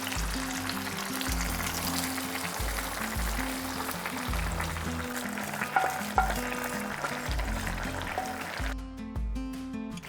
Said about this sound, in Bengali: এখানে তরকারিটা ফুটছে